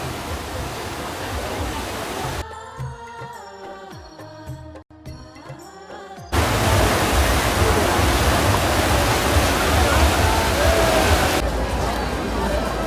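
Fast-flowing Ganges river current at a Haridwar ghat during heavy rain, a loud steady rushing roar that fills the clip, briefly dropping away midway while other sounds take over, then returning strong.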